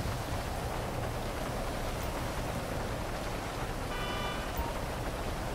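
Steady rain pours in GTA 5 at night during a police stop on a Chevette, a constant dense hiss filling the whole scene with no break, faint and even throughout.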